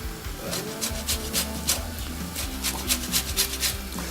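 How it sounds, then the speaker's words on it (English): Lemon zest grated straight into a pan, a run of quick rasping strokes in a steady rhythm, close and fairly clear over a low background hum. "So literally just grating it straight into the pan."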